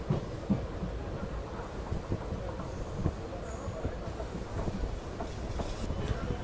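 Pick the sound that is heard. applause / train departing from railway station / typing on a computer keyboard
train departing from railway station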